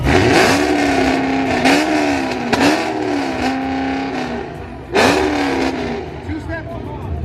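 A Miata engine bangs against a two-step launch limiter, firing repeated sharp rev bursts with crackling pops between held, wavering revs, loud and close with background voices.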